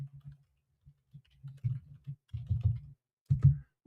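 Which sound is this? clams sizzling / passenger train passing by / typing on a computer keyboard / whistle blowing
typing on a computer keyboard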